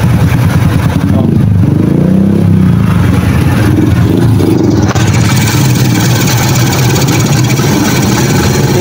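A CT100 motorcycle engine at full throttle yet lacking power, giving a loud, steady, close drone with a low, even rumble and only slight changes in pitch, heard alone with no talking.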